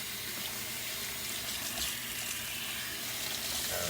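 Running water rinses shampoo out of natural hair. A steady, close hiss of water flows without a break for the whole stretch, fairly quiet and heard with no talk.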